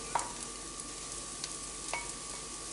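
Mushrooms and minced ginger stir-fried in a pan over high heat give a soft, steady sizzle, with a few faint stirring clicks scattered through it.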